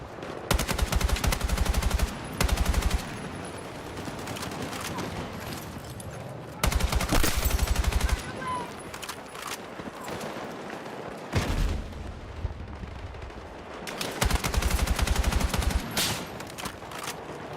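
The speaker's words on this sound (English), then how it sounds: "There's a lot of bullets coming in" Heavy automatic gunfire in the modern military shooter Battlefield 6 comes in repeated long bursts with short lulls between them, bullets cracking in close and loud.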